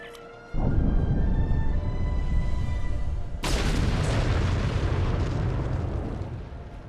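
A charge detonates in the Star Trek Online game: two heavy, loud booms a few seconds apart, each followed by a long roaring rumble that fills the scene before slowly fading.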